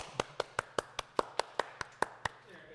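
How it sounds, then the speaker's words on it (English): An applause button on a sports talk show fires a faint applause effect, about eleven sharp, evenly spaced hand claps in a brisk steady rhythm, heard alone without talk. "Oh, do you have an applause button?"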